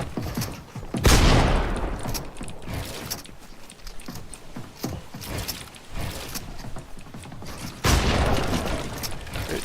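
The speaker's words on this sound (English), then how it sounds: "Reloading my shotgun now." Shotgun handling in Fortnite amid a firefight: loud blasts at the start and near the end frame a stretch of clicking, ratcheting mechanical sounds and scattered bangs, busy and close, with no voices.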